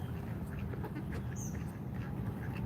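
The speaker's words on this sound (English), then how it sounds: "This green duck is really big." A large green duck and others quack faintly in Washington DC, a few short calls buried under a heavy, low outdoor rumble.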